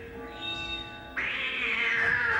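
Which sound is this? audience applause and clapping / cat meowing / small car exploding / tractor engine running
cat meowing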